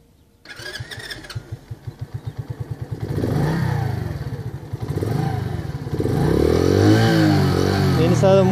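A Kuba Dragon 50cc motorcycle engine cranks with rapid clatter, catches, then idles and revs in several rising surges, loud and close.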